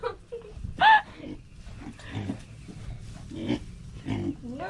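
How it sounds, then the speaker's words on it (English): Pigs on a farm grunt and squeal in short bursts, close by, with one sharp high squeal early and scattered low grunts over a faint outdoor background. "playing chase with the pigs"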